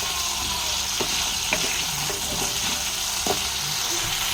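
Potatoes frying lightly in hot oil in a pan give a steady, dense sizzle, broken by occasional soft clinks and stirring knocks close by.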